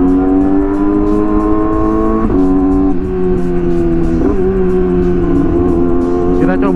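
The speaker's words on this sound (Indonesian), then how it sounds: "Kita cobain juga apa namanya, auto blippernya, downshiftnya ya guys ya" A Yamaha R6 sport motorcycle with an autoblipper runs close and loud, its engine holding a high rev before several sharp throttle blips punctuate quick downshifts.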